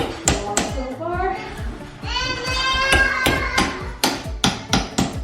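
A big hammer knocks in a series of sharp, loud strikes, some spaced and some in a quick run, during work on a wall to trace a ceiling leak; a voice talks between the blows.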